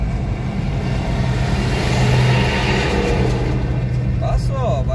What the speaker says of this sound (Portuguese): vem um caminhão atrás de mim